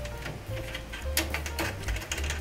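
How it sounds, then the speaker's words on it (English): Metal drum key turning a tension screw on a snare drum, loosened until the screw just meets the rim, giving a run of small mechanical clicks and ratcheting ticks close up, with a low hum underneath. "when I'm using the drum key right now, I'm not necessarily, I'm not tightening the drum."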